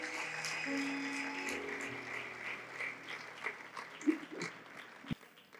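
An audience at a church birthday service applauds to welcome a speaker, a steady wash of clapping that peaks and thins out, heard from a distance beneath a sustained musical tone.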